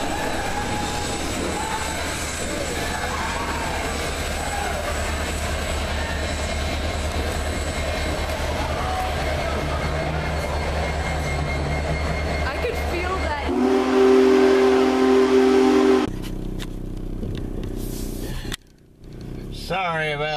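A Big Boy steam train rumbles steadily past at close range, then a loud steam whistle blows for a few seconds before the rolling noise continues.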